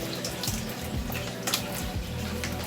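Liquid is poured into a lasagna dish, a continuous splashing, gurgling trickle with small irregular splats, close and moderately loud, with no voices.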